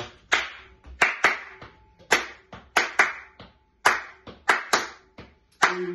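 A group claps hands together in a steady rhythm during a drumming and dance workshop, with about fifteen sharp, close claps in even, repeating bursts.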